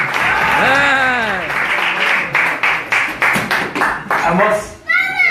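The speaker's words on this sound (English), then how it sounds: "Let's give Connie and Joseph a big round of applause." Applause at a temple gathering for a couple, a burst of clapping mixed with children's voices and chatter, the claps thinning into scattered bursts, then a voice near the end.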